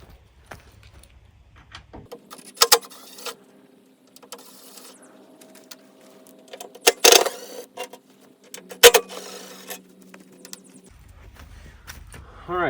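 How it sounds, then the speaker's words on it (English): Bucket bolts come off a Little Bull loader with sharp metallic clinks and wrench clatter at close range, separated by quiet gaps and a low steady hum. "So I'm gonna just start unbolting the bucket first."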